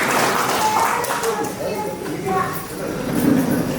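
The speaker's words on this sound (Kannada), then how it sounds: "ಅವರಿಗೆ ಒಂದು ಅಭಿನಂದನೆ, ನಿಜವಾದ ಚಪ್ಪಾಳೆ" An audience claps together for an organizer at a Kannada devotional discourse gathering held during the Shravana month, a steady dense patter of many hands throughout, close and fairly loud, with a faint murmur of voices underneath.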